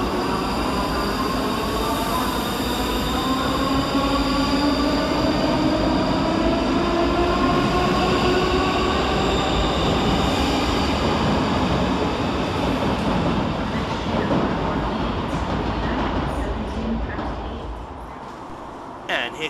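A Scotrail Class 318 and Class 320 electric passenger train rumbles steadily past at close range at Glasgow Queen Street station, wheels squealing and motors whining through a long pass, with some faint talk in the background.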